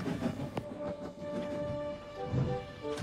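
A steam train rolls into a station with a steady mechanical rumble and a sustained whistle-like tone, with clanks and thumps as it nears.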